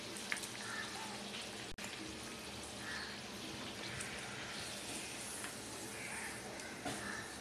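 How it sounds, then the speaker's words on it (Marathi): Pumpkin-flour chicken-style vade deep-fry in hot oil, giving a soft, steady sizzle and bubbling hiss that runs quietly and evenly throughout, with one brief sharp click near the start. "हे बघा, झटपट वडे आपले चांगले तळून झाले आहेत"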